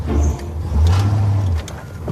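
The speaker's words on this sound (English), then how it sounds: "Shelby is trying to start with the parking brake on" A car engine revs hard and strains in a steady low drone while the driver tries to pull away with the parking brake still engaged during a road test, loud and close with brief dips between surges.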